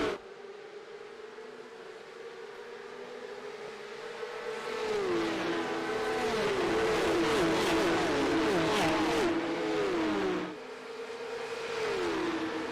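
A field of 31 Porsche Cup race cars leaves the line at Monza in a racing video game, a steady engine drone swelling into many overlapping revving engines that climb and shift gears together, loud and layered, before easing slightly.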